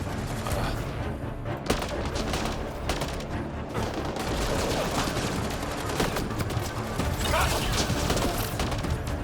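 Sniper fire in Mass Effect Andromeda comes as a dense run of gunshots and sharp cracks mixed with crashing impacts, loud and continuous, with occasional voices under the shooting.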